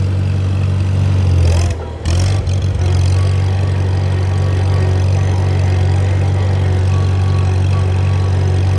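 A lawn mower engine runs at a steady, loud, droning idle throughout, briefly dipping for a moment near the start and then holding constant.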